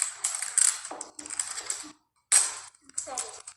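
Opening a LankyBox mystery egg box: bursts of crinkly plastic and cardboard rustling and clicking, close and fairly loud, broken by short pauses, with no speech.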